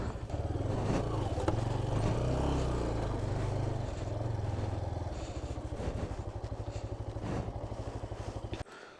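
A motorcycle arriving at a village wedding house rumbles at low speed nearby, its engine drone holding steady before cutting off abruptly near the end as it is parked.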